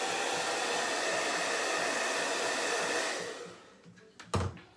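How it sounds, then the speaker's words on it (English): A hair dryer blows with a steady, loud whoosh, then cuts off near the end, followed by a few brief handling knocks. "I can even help it dry a little bit by using the hair dryer"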